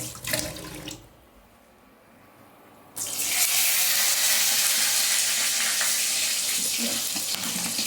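Bay leaves are rinsed in water from a kitchen tap: a brief hiss, a quieter pause, then a loud, close, steady rush of running water for the rest of the clip.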